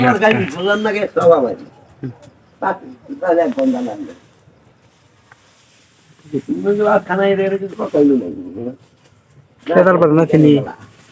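Pigeons coo in their loft at night, low rounded calls that come in several bursts with quiet gaps between them, mixed with someone talking close by.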